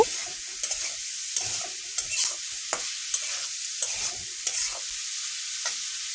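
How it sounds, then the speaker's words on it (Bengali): Chopped green chillies and onions fry in a pan for a Bangladeshi dried loitta fish bhuna, giving a steady close hiss with repeated soft scraping stir strokes and no talk. "কাঁচামরিচ কুচিটা দিয়ে কিছুক্ষণ ভেজে নিব।"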